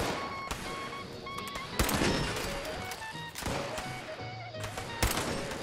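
Pistol fire from the video game Fallout 76, with several sharp shots spaced irregularly over a busy game backdrop of tones and ambient noise, with no talking.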